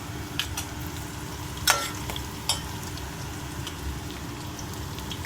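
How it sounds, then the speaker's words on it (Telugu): Chana dal frying in a pan while making upma, heard as a faint, steady sizzle with a few sharp crackles and pops scattered through it. "ఇది కొంచెం వేగాలి శనగపప్పు"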